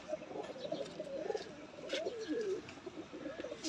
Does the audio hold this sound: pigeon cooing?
yes